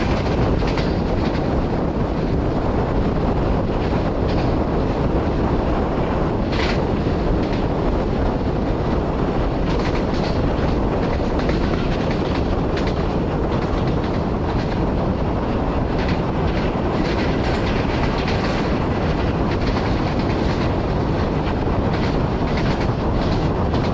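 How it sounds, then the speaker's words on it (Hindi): Train travelling through Jhelum railway station in Pakistan, heard from inside the guard compartment: a steady, loud rumble with clattering rail noise and wind buffeting that runs continuously throughout. "दोस्तों ट्रेन अभी हमारी पास थ्रू होगी जेलम रेलवे स्टेशन से।"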